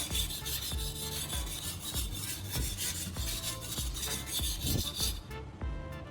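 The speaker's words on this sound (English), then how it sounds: "I continue the sharpening strokes, moving the blade across the number 1000 grit surface." Knife blade drawn across a 1000 grit whetstone in repeated sharpening strokes, a close rhythmic rasping about once a second.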